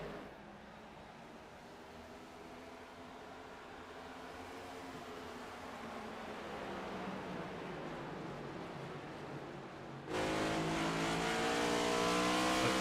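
Race cars lapping Richmond Raceway in a racing video game, engines droning steadily as the pack circles, then a louder, brighter roar jumps in near the end as a car closes in up close.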